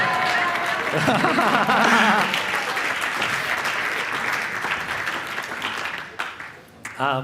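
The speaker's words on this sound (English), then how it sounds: "We've got to get a clap for that." A conference audience claps loudly in a dense, sustained burst that holds steady, then thins and tapers off near the end, with voices talking over it.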